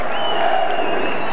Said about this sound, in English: Boisterous crowd, majority here for Hajduk Split.